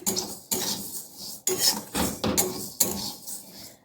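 A spatula scrapes and rasps across a dry pan in short, uneven strokes, stirring mung dal as it roasts; close and moderately loud, no talking.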